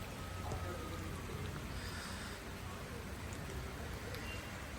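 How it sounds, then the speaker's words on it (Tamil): Light rain falls outdoors in Kodaikanal on a cold evening, a faint, even patter of drops on surfaces continuing steadily, with a person speaking softly over it. "லைட்டாக மழை வேறு பெஞ்சிக்கிட்டு இருக்கு"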